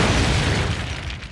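A short, loud explosion from the Gravity Falls PinesQuest video game: a deep boom that rumbles and slowly fades within about a second.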